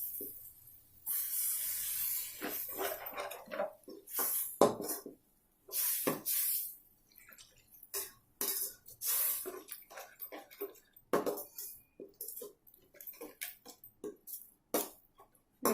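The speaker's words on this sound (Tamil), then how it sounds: "இப்போ இதில் கொஞ்சம் தண்ணி விட்டுடலாம்." Water hisses and spatters into a hot pan of prawns seasoned with coriander powder, salt and turmeric. The sizzle comes close up as a series of sharp, irregular bursts with short quiet gaps between them.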